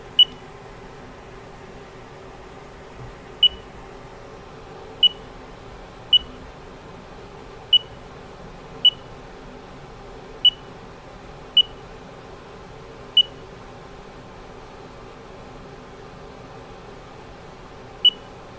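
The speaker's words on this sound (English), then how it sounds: "that final beep indicates that the data is saved into G54 for X and Y" A short electronic beep from a CNC machine probe repeats at irregular intervals, about a dozen times, over a steady low hum of machinery.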